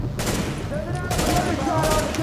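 Enemy gunfire in The Division video game, a dense continuous barrage of rapid shots under broadband noise, with bursts intensifying near the end; a voice is faintly present.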